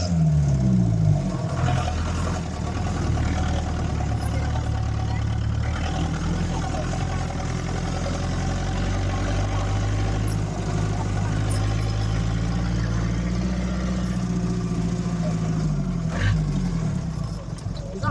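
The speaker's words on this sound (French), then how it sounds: "Ces Land Rover en plein 21e siècle et surtout dans une capitale transportent à leur bord au moins 12 personnes" An old, battered Land Rover engine rumbles steadily on a busy Kinshasa street, a loud and continuous low drone close by, while someone speaks over it throughout.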